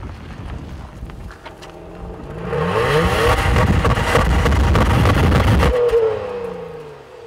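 A 2014 Honda Pilot AWD engine, paired with a 5-speed automatic, revs up hard to about 5,500 RPM, holds a loud, buzzy roar for a few seconds, then drops back toward idle, with some wind noise around it.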